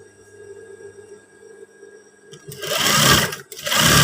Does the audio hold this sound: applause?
no